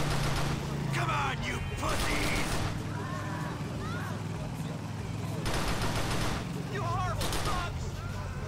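Pistol gunfire in GTA IV during a motorcycle gang fight, with sharp bursts of shots clustered near the start and again around the middle, loud and close, mixed with game action noise and voices talking.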